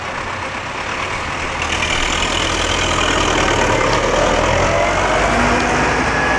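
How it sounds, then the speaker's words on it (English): A big tractor approaches from behind on a road, its engine a steady, loud low rumble that swells gradually as it draws closer, with broadband road and engine noise throughout and no talk. "So here I got a big tractor coming up behind me."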